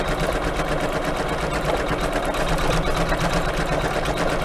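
An embroidery machine stitches out a quilt block for a Kimberbell pillow, its needle hammering in a fast, steady, dense mechanical whir that stays loud and even throughout, with no talking.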